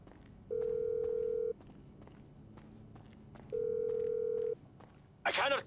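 Two long, steady electronic ring tones, each about a second, separated by a pause, from a mobile phone call in the video game GTA 5, followed by a brief burst of noise.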